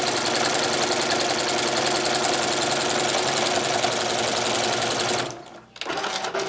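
A sewing machine runs steadily, stitching straight quilting lines through a quilt, a loud continuous mechanical whir with rapid needle chatter that stops briefly near the end before starting up again.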